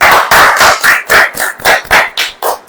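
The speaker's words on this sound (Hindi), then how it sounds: "ताली बजेगी कि नहीं?" A church congregation at a Hindi-language Christian sermon claps in loud, rhythmic unison, around a dozen sharp beats at a steady pace, with no voices over the claps.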